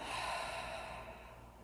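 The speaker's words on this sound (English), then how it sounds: "and breathing out, letting the breath flow all the way out." A long, slow exhalation during seated chair-yoga breathing, a steady soft airy rush of breath with no talking that fades gently toward the end.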